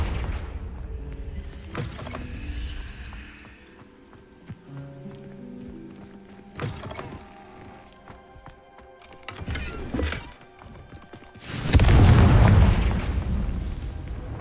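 Confringo fire spell cast in the video game Hogwarts Legacy, blasting open an old room: a sudden deep boom with rumbling debris late in the stretch, after quieter clinks, creaks and mechanical shuffling.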